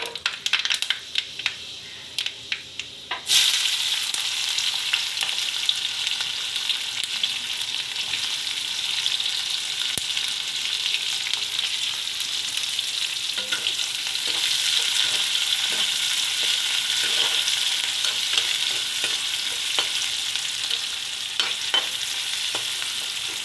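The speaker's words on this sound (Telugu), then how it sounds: "కొంచెం బ్రౌన్ కలర్ వచ్చే వరకు కూడా ఫ్రై చేసుకుందాం" Mustard seeds, dried red chillies and fenugreek fry in hot oil, starting with scattered pops before a sudden surge into a loud, sustained sizzle with crackles and occasional stirring.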